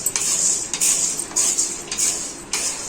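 A metal spoon stirs coriander seeds and sorghum as they roast in a hot pan, giving close, loud scraping strokes in a regular rhythm, about five sweeps.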